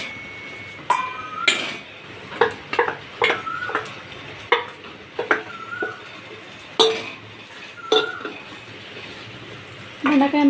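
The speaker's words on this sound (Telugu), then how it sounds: "ఇప్పుడు ఇందులోనే బెండకాయ ముక్కలు అయితే వేస్తాను" Okra pieces tumble into a pan of spiced tomato curry, a series of sharp clattering knocks and scrapes of a spoon against the pan, with gentle sizzling between them.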